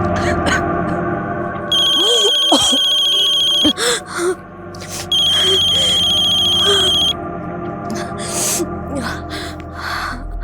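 An incoming call sets a phone ringtone chiming in repeated bursts of bright electronic tones, with gasps and a tense dramatic score beneath it in a Mumbai crime drama scene.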